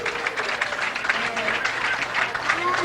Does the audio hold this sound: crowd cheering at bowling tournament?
yes